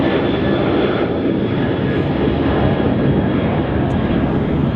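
A Ryanair airliner passes overhead at Manchester Airport, its jet engines a loud, steady broadband roar that fills the whole stretch without a break.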